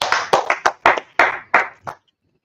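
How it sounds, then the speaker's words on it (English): Audience clapping at a meeting, about seven or eight separate sharp claps or short bursts spaced irregularly, each decaying quickly, ending abruptly in near silence. "Clap it up for the claps."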